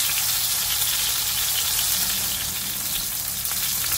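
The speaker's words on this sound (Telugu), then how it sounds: "ఇప్పుడు తిప్పుకోండి మెల్ల, ఇట్లా చూడండి ఫ్రై అయింది కదా కొంచెం." Restaurant-style tandoori chicken pieces frying in a pan as they are turned, a loud, dense, continuous sizzle and hiss heard close up and alone, without talk.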